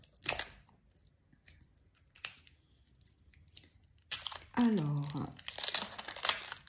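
Crinkling and tearing of the packaging around a small gothic Lenormand-style fortune-telling card deck, heard as short dry rustles in a quiet room, followed by a burst of nearby talk.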